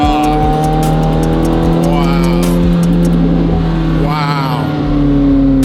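A supercar's engine roars close and loud in a deep, rumbling revving and accelerating drone, with people talking excitedly over it.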